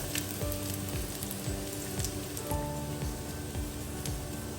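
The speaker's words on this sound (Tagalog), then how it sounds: "Lulutuin ko lang yung luya ng mga 10 seconds bago tayo maglagay ng bawang" Ginger fries in a hot pan with a steady, dense sizzle and crackle like rain on a surface, loud and close, with no talking.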